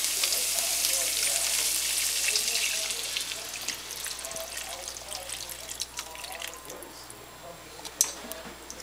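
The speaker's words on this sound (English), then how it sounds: "All is 2 cups beef stock you add to your ground beef." Two cups of beef stock hit browned ground beef frying in a pan, a loud, steady sizzle and splash that slowly fades into softer bubbling and dripping, with a single clunk near the end.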